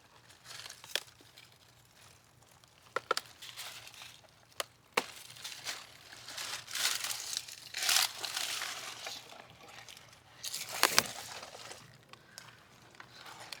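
A large plant in a desert garden is cut off at its base, giving a quiet run of close crunches, snaps and crinkly rustling with a few sharp isolated cracks spread across the stretch.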